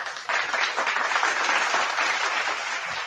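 A burst of applause starts abruptly and holds as a dense, even patter of many hands for about three seconds, with no voices over it.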